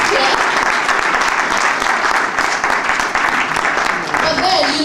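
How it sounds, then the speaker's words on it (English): An audience at a Total Life Changes network marketing pre-launch event in Ghana applauds: dense, sustained clapping fills the room at full loudness for the whole stretch. "let's give ourselves a big round of applause again for making it clear"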